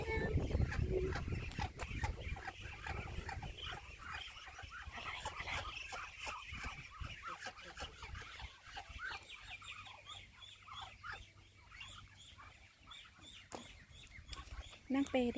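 Farm ducks on a rural Thai farm quack and chatter in a busy, continuous flock close by, with scattered calls overlapping throughout and some voices in the background.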